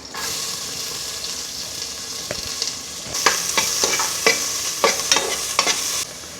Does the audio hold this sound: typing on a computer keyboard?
no